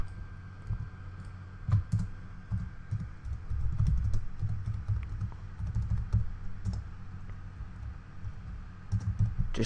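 Someone types code on a computer keyboard, with close, rapid, irregular key clicks and brief pauses throughout a quiet room.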